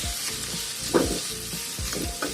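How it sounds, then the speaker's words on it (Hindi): A potato and onion filling fries in a pan, a close sizzle punctuated by rhythmic scraping strokes of a spatula about twice a second. "देखिए, इस तरह से इसको हम फ्राई कर लेते हैं।"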